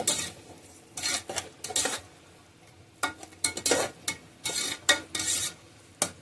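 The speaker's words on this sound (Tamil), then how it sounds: "தயிர் சேர்த்துட்டு நல்லா மிக்ஸ் பண்ணிடணும்." Yogurt being stirred into chicken for biryani in a metal pot, a series of wet scraping and clinking strokes in irregular bursts, close and fairly loud, with no talking.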